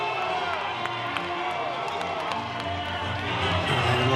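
Spectators cheer at a college baseball game, with St. Mary's fans behind the dugout, a steady, moderately loud crowd roar mixed with voices and scattered shouts.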